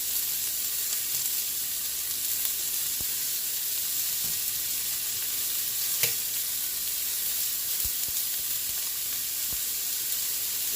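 Vegetable and chicken stir fry in olive oil sizzles in a very hot Dutch pot, a constant bright hiss with occasional small pops and clinks, heard alone.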